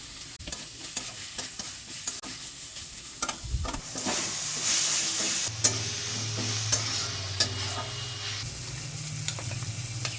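Tomato masala sautéing in a pan with salt and turmeric added for a Bengali fish curry, a close continuous sizzle with frequent spoon scrapes and stirring clatter, no voices.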